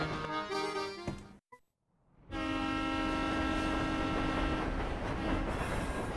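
A train rolling along the tracks in the Professor Layton and the Diabolical Box game, with steady rumbling wheels and sustained tonal hum after a brief near-silent gap, loud and continuous with no talk.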